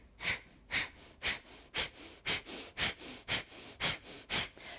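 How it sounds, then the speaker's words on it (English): Rapid, forceful exhalations pumped through the nose in a yogic breathing exercise, about ten sharp evenly spaced breaths, close and clear, with no talking. "So breathe in through the nose, just a short breath."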